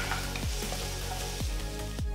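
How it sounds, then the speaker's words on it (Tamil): Finely chopped onion sautéing in a hot pan for a paneer dish, a steady close sizzle with a few soft scraping stirs cutting through, no voices. "அடுத்து பொடிசா நறுக்கின ஒரு வெங்காயம் சேர்த்து 2லிருந்து 3 நிமிஷம் வதக்கிக்கலாம்."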